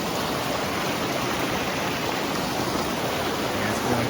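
Water flows in a stream beside a rock floor outdoors, a steady, close, full rushing hiss with no pauses throughout.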